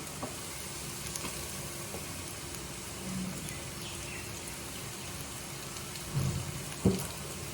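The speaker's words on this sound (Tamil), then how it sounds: "இப்போ அதையும் சேர்த்து போட்டு நல்லா வறுத்துடலாம்." Onions fry with asafoetida in a pan for a bitter gourd curry, making a loud, continuous sizzle with a couple of brief stirring bumps near the end.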